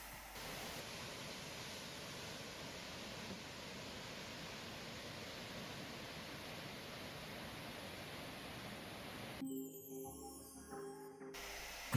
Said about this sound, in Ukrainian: так виглядає водоспад